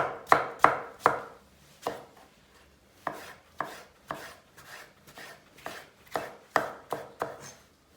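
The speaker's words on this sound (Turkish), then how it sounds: "Soğanları fazla iri doğramıyorum" A knife chops onions on a cutting board in irregular sharp thuds, some in quick bursts and some spaced apart, close by with no talking.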